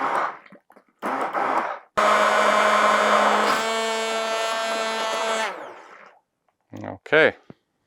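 A blender whirs loudly and steadily for several seconds, blending pandan leaf puree for a cocktail, with a steady harmonic motor drone that winds down at the end, framed by brief handling noises and short bursts of speech before and after.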